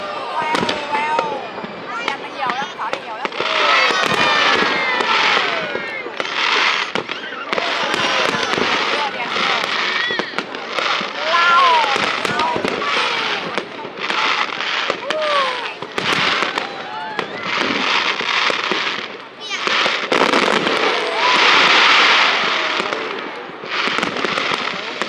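Fireworks display at the Hung Kings commemoration festival in Viet Tri, with dense crackling bursts and booms continuing loud and steady throughout, while a crowd of people talks nearby.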